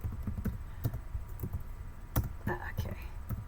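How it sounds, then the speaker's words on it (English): Someone types a name on a computer keyboard, quiet scattered key clicks in short bursts, close by and faint under a soft low background hum. "If I type in her name."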